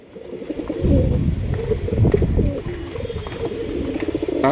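Giribaz high-flying racing pigeons, a paired couple, coo in low, throaty, repeated rolls close by, continuing steadily with no talk over them.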